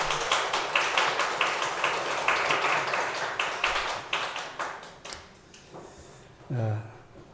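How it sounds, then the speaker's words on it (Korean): A church congregation applauds during a Sunday service, with brisk, fairly loud clapping that slows and fades after about five seconds, followed by a brief low vocal sound near the end. "우리 하나님께 영광의 박수 올려드리겠습니다."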